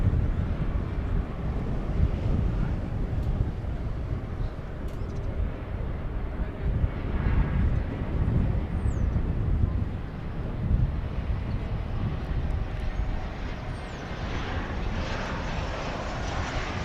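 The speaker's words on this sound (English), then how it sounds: "Delta Flight 2798 is popping in for a visit from another one of the Delta hubs, Salt Lake City, in Airbus A220" Delta Airbus A220 arriving at DFW Airport from Salt Lake City in the morning, a moderate distant jet rumble mixed with wind noise, steady and broad without clear peaks, no voices over it.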